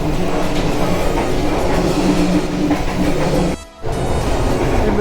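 Argo Parahyangan passenger train running on the rails toward Bandung through hills and mountains, a steady loud rumble and clickety-clack throughout, briefly dropping away for a moment near the end before resuming.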